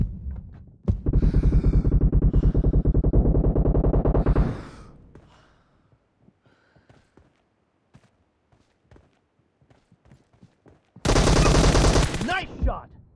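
Automatic gunfire in PUBG Mobile Lite during a warehouse team deathmatch: two long, loud, rapid bursts of fire with quieter footsteps and small clicks in between.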